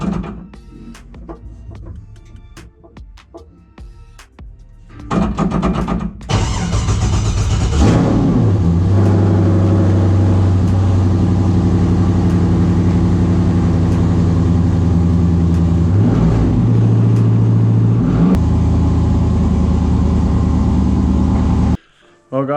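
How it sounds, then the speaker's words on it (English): An LS V8 engine fires up in a car resting on jack stands, with clicks and cranking first, then a loud, steady idle broken by two revs. A voice speaks briefly early on. "I just want to start it up and just try the gearbox just to see how it goes"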